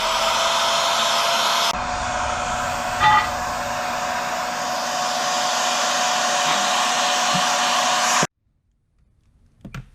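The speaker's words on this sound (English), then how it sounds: "I'm going to heat the bearing with a heat gun." A steady, loud blowing whine from a heat gun heating a bearing on a Stihl MS290 chainsaw runs for several seconds with a slight shift in tone, then cuts off abruptly into quiet.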